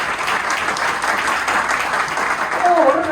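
A church congregation claps together during a Friday sermon, a dense burst of applause lasting a few seconds, with voices mixed in.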